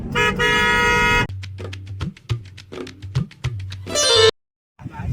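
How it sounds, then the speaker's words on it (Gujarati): A newly fitted car horn blares in a loud, sustained blast, gives way to a few shorter bursts and clunks, then sounds one more strong blast before cutting off abruptly. "ગાઈસ હોર્ન ફિટ થઈ ગયું છે અને હોર્ન વાગે છે કાંઈ મસ્ત જોવા."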